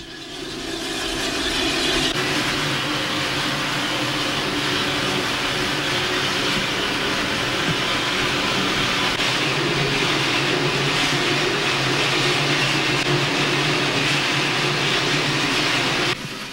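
Steam locomotive engine 28, fired up inside the roundhouse at Railtown 1897, gives off a loud, steady hissing roar of steam with a low mechanical rumble underneath, continuous and close.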